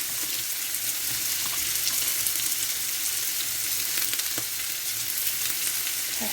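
Broccoli stir-frying with pork in a hot pan gives a steady, loud sizzle that runs unbroken, with faint scraping stirs now and then and no talking.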